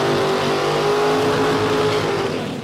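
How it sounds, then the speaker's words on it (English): A DPS Fox Body Mustang and a 1969 Camaro in a drag race final at a motorplex, engines roaring loud and sustained at high revs, fading slightly at the end. "DPS Fox Body Mustang versus a 69 Camaro."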